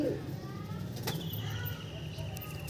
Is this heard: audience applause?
no